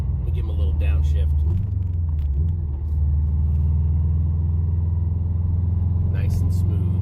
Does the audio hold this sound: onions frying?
no